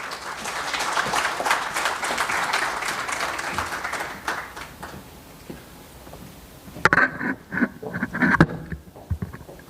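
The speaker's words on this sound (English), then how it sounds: "Let's give Professor a big round of applause" A conference audience at an African philanthropy opening ceremony applauds for Professor Maurice Radebe. The clapping is fairly loud at first, thins out after about four seconds, then gives way to scattered sharp claps and noises.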